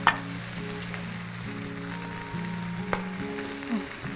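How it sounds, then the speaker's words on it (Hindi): Leftover chicken broth (yakhni) hits a hot frying pan and sizzles steadily and close, with a bright hiss and faint stirring and clinks over a low background hum, and no speech. "ये जो हमने चिकन उबाली थी ना, तो उसका ये जो यखनी बची है, तो हम इसमें इसको ऐड कर देंगे"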